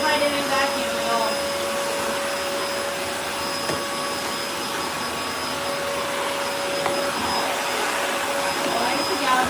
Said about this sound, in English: It's as if I didn't vacuum at all.